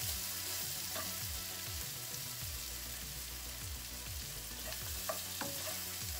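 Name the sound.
onions and pepper frying in a pan with turmeric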